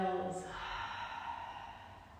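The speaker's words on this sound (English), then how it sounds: "Always see if you can make your breath a little bit deeper and a little bit louder, adding some noise to your inhales and exhales." A deep, audible yoga breath during a power vinyasa class comes as a long, noisy exhale that fades gradually, close to the microphone.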